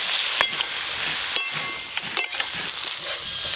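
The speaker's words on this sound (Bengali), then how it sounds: "পাঁচমিশালি সবজি ভালো করে ভাজা হয়ে গেল, দেখুন এইরকম ভাবে ভেজেছি।" Mixed winter vegetables frying in a pan in a rural kitchen, a steady close sizzle with light stirring scrapes and a few sharp clicks, no talking.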